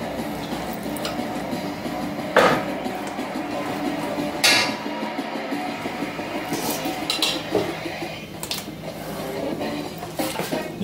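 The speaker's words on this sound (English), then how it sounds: "So I'm going to put these into my turkey pan now" Pork shoulder slices being set into a turkey pan, with dull clinks and scrapes of metal and meat handling at close range, a few sharper knocks standing out against a steady background hum.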